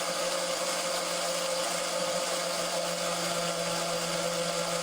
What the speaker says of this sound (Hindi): उबली हुई लौकी और हरी मिर्च, हरा धनिया और ये जीरा, इस सबको मिला के हमने पीसना है